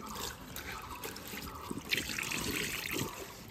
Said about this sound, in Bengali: তো যেহেতু গাছের পাতা এগুলো কিন্তু পোকামাকড় থাকতে পারে, তো পাতা কিন্তু অবশ্যই ধুয়ে নেবে, খাওয়ার আগে